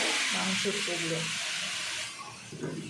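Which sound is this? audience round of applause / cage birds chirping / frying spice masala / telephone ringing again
frying spice masala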